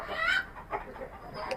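Chickens on a rooftop poultry farm cluck and squawk in short bursts while being caught, nearby but moderately quiet, with no voices over them.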